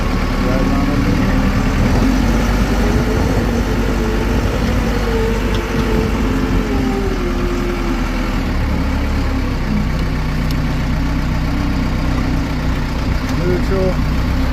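A heavy machine with a boom runs its engine steadily and loudly as it drives, a continuous low rumble throughout; the machine has one cylinder shutting down.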